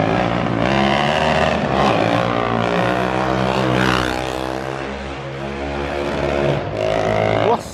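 A 330cc Maiki motorcycle engine out on the street, loud and raspy, revving hard with sweeping pitch changes and a continuous roar throughout, close by with no talk over it.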